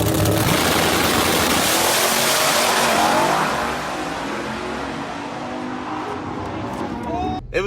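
A 997 cubic inch race car engine roars loud and close, its dense broadband rumble easing to a lower, steadier running note partway through.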